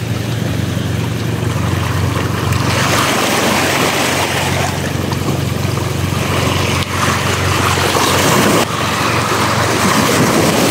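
Sea waves wash against rocks at a fishing spot, a loud continuous surf roar that swells and recedes with a couple of heavier surges, with wind buffeting the microphone and no talking.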